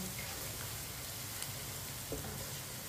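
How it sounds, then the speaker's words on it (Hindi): Spices sizzling in a pan as the base for an onion and tomato curry with turmeric, a soft steady frying hiss with faint crackles, quiet and close, no speech. "मसालों को 1 मिनट के लिए पका लेंगे।"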